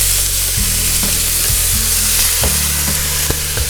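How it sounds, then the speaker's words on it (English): Vegetables sweating and sizzling in a pan for wild turkey enchiladas, a steady close frying hiss with a few knocks and scrapes of a utensil, no talk. "Gonna let that cook down for just a minute and sweat those veggies slightly."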